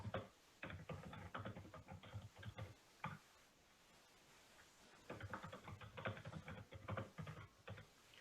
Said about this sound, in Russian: либо нажимая кнопку Tab на вашей клавиатуре